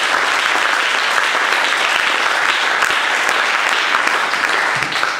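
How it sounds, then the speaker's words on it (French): A church congregation applauds together at a Sunday service, dense sustained clapping filling the whole stretch without pause. "Des acclamations de remerciement."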